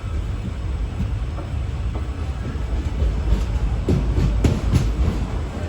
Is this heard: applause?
no